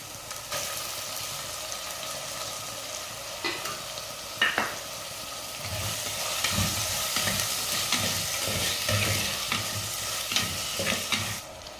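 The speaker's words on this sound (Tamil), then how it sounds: "வெங்காயம், இஞ்சி பூண்டு பேஸ்ட் நல்லா வதங்கினதுக்கப்புறம் தக்காளி சேர்த்துக்கிறேன்." Onion, ginger garlic paste and tomato sauté in hot oil for a Tamil chicken kulambu, giving a continuous sizzle and frying hiss broken by scraping stirs and small clatters, with no talking.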